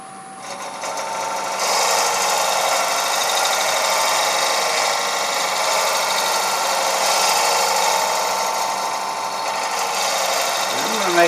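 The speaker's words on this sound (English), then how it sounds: "we're going to use this kind of a negative rate scraper, and we're going to make us a tiny little cove in here" A negative rake scraper cuts a cove into spinning wood on a lathe, giving a steady, loud, buzzing hum with a scraping edge that holds for most of the clip after a quieter start.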